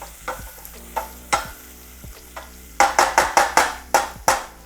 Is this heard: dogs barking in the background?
no